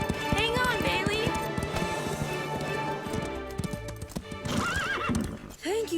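Cartoon horses clip-clop in quick, uneven hoofbeats throughout, with loud whinnying neighs breaking out near the end.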